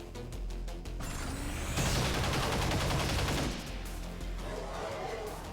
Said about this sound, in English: Take the strafing against the Archon.